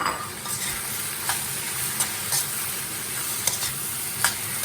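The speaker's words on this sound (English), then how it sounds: "I'm going to go ahead and add that shrimp" Shrimp sizzles steadily in a hot wok over medium-high heat with vegetables and fried rice, while a utensil scrapes and stirs in light, irregular clicks over the constant frying.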